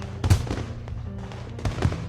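Fireworks in the visual novel Katawa Shoujo pop and crackle in two separated bursts, each with a sharp loud bang followed by fizzing, crackling tails under a low steady rumble.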